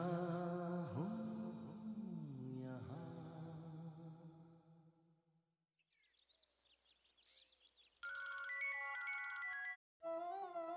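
A phone ringtone chirps in a bright, repeated melodic pattern near the end, following a swell of dramatic music from a French-dubbed TV series scene.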